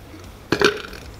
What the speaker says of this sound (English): I got the dirt burps.